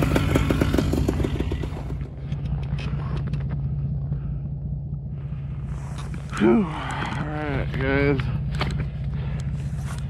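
A small pull-started paramotor engine runs on a cold, subzero day, putting out a steady buzzing drone throughout, with someone talking over it partway through.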